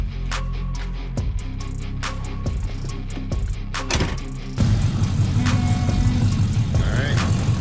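A 1968 Dodge Charger Hellcat engine runs near at a low, rumbling idle with clanks and knocks as the car is loaded for transport, then the rumble grows louder and rougher as it revs.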